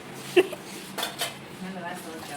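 A few sharp clinks and clatters of dishes and utensils knocking together at close range while being washed, brief and irregular.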